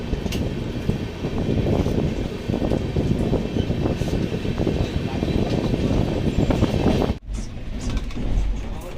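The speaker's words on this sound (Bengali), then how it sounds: "আমাদের হাওড়া অমৃতসর মেল এসে পৌঁছলো দিলদারনগর জংশনে" Howrah Amritsar Mail 13005 pulling into Dildarnagar Junction, heard from on board as a steady, loud rumble of rolling coaches with wind noise. It drops briefly near the end, then picks up again.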